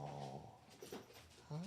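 A young puppy whimpering and giving small growling yips close by, soft and intermittent with a brief whine at the end.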